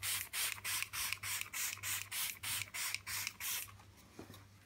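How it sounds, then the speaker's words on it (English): A leather-cleaning spray bottle pumped about ten times in a steady rhythm, each short hissing burst close and crisp, with a low steady hum underneath. "So I've got this spray."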